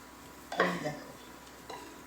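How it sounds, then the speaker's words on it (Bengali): Meat being stirred and sautéed with spices in a pan, a short scraping stir with a clink of the utensil against the pan, then a second fainter scrape over a low background sizzle. "কষাচ্ছি"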